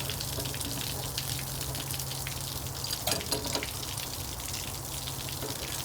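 Water gushes steadily out of a tankless water heater during installation, a continuous rushing and splashing flow with a low steady hum underneath, close and even throughout, with a brief louder surge partway.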